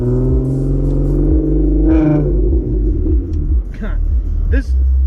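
A car with a loud flex pipe exhaust rumbles and revs, a deep throaty drone that swells and dips, with a person talking over it.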